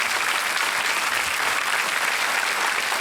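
Sustained studio audience applause on a television quiz show set, a dense, steady clapping wash at full loudness from start to finish with no voices above it.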